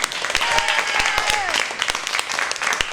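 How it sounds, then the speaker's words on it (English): A live improv show's audience breaks into steady applause for the players, dense clapping running throughout with a voice or two rising above it. "let's give our players a round of applause"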